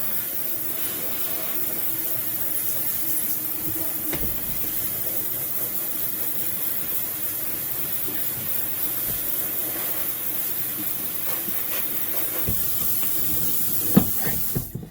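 A handheld sprayer mists water steadily onto an Ikonart stencil to wash out the image, a continuous close hiss that runs unbroken, with a few brief knocks near the end.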